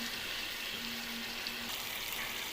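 Meat being sautéed in a pan with Radhuni meat masala, giving a steady, even sizzle and hiss that stays constant for a couple of seconds with no talking.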